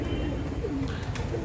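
Low pigeon coos murmur beneath a dense, noisy outdoor background while trained pigeons land on a rooftop. The calls are soft and blend into a steady broadband wash with no clear breaks.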